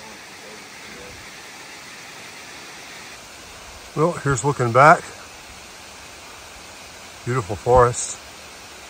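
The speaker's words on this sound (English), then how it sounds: "We got waterfall to the left" A waterfall beside an Appalachian Trail hiking path near Kinsman Notch gives a steady, soft broadband rush throughout, with a voice talking briefly over it twice.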